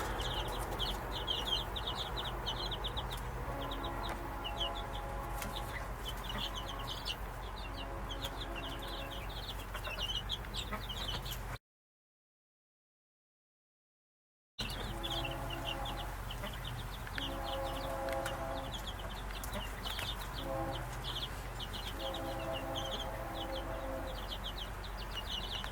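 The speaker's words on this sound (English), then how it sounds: "Now these are supposed to be meat birds" Meat chickens cluck and murmur in a backyard coop, repeated soft calls scattered over steady outdoor background, with a short gap of silence midway.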